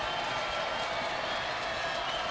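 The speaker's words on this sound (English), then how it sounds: "crowd starting to get into it" Stadium crowd at a college football game, Coastal Carolina at Old Dominion, roaring and cheering steadily in a dense, continuous wash of noise with no breaks, with a stray clap now and then inside the din.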